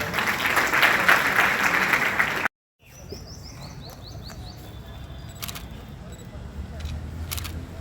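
Audience clapping at a college foundation day celebration, loud dense applause for a little over two seconds that cuts off abruptly, followed by quieter room noise with faint chirps and clicks.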